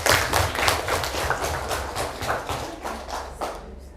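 Participants in an online class clap together, a dense run of uneven hand claps and taps that fills the whole stretch at a steady, moderately loud level before thinning slightly toward the end.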